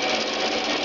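A treadmill motor drives a wood bandsaw at full speed, giving a steady, dense mechanical whir. The sound is loud, continuous and close, with no talk over it.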